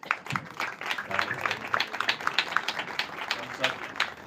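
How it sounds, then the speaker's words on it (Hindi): A church congregation at a prayer service applauds loudly together, a dense, steady burst of hand claps filling the room at moderate distance. "एक बार सब जोरदार ताली"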